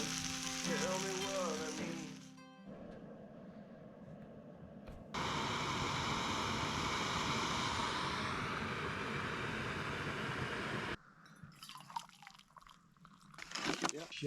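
Steaks frying in a buttered pan over an outdoor campfire, a steady loud sizzle holding for several seconds before cutting off, with other noise and a voice around it.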